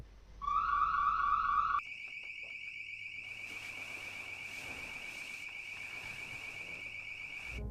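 A loud house alarm shrills in a steady high electronic tone, jumping to a sharper piercing pitch near the start and then sounding continuously without a break to the end, with no talking over it.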